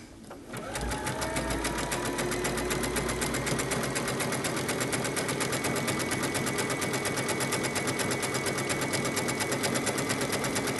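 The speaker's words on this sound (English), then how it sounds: "I can go ahead and start sewing" A sewing machine stitches fabric at a steady, continuous rapid hum and needle chatter, loud and close, running without pause after a brief start.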